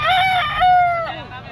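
A yellow-legged gamecock crows once, a long harmonic call rising, holding steady, then trailing off, close and loud with faint background murmur.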